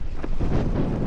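Strong wind gusts buffet the microphone beside a large, deep lake in Egypt, a continuous low roar and rumble with no voices.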